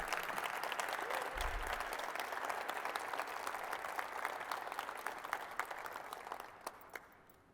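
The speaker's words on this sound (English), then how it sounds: "One more round of applause for Coach Callahan." Sustained audience applause for a retiring college football head coach at Monmouth, dense clapping from a large crowd that stays loud throughout and thins slightly toward the end.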